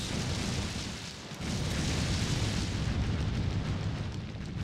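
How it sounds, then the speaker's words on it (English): A bomb flower blast in Zelda: The Wind Waker HD, a loud, dense rumbling roar that briefly dips and then swells again, sustained and close with no voices over it. "use your bomb flowers"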